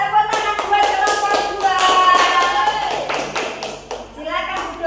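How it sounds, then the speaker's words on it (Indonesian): A classroom group is applauded with rhythmic, patterned clapping and tapping, mixed with children's voices chanting along, fairly loud and close. "tepuk tangan buat kelompok"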